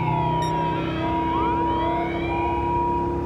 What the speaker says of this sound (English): Oh, now that's a cool siren.